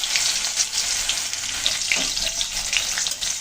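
Whole black peppercorns fry in hot oil over a cumin tempering, giving a steady, close crackling sizzle with scattered sharp pops throughout.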